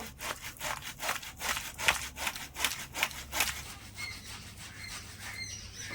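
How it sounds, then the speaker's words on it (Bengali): Palm fruit seeds scraped against a kitchen grater in quick, rhythmic back-and-forth strokes, a close raspy rubbing that repeats about a dozen times before easing off into softer scraping. "এবারে আটিগুলো একটা গ্রেটারের সাহায্যে ঘষে নেব"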